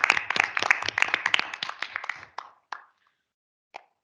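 A burst of clapping from a group at a college board of trustees meeting, brisk and dense at first, then thinning out to a few scattered claps and a last lone clap.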